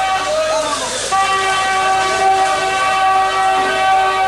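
Several vehicle horns blare together on a busy market street, loud and sustained, with steady overlapping tones over street noise.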